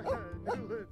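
A puppy in The Sims 4 on a horse ranch lets out three quick, soft yips and barks, faint and close, with no talk over them.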